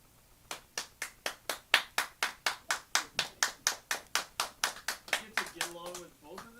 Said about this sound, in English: Okay, I think you're overdoing it on the clapping.